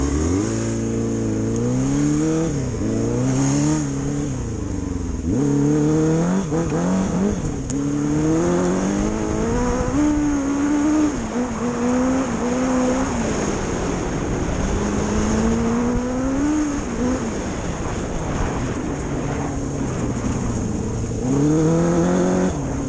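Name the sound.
homemade four-cylinder dirt bike engine on test ride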